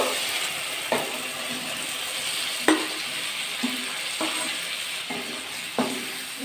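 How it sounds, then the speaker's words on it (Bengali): Bottle gourd and spices frying in oil, a steady close sizzle broken by several spatula scrapes and knocks against the pan at irregular intervals, with no one speaking. "আবার একটু নাড়াচাড়া করে দিলাম। এবার লাউটা দিয়ে দেবো।"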